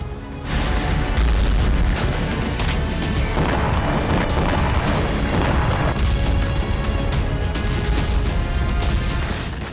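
Dense, continuous rumbling blasts and crashing booms from bomb and missile strikes on Ukrainian cities, loud and sustained with overlapping impacts throughout, no voices.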